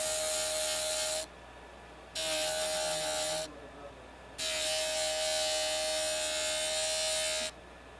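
A JOOLTOOL rotary lapidary tool grinds a bevel on a turquoise cabochon, a steady high whirring grind in three bursts separated by brief quiet pauses, close and loud.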